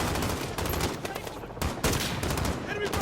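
Rapid automatic gunfire in Call of Duty: Modern Warfare, close and loud, in fast bursts with a short break partway through.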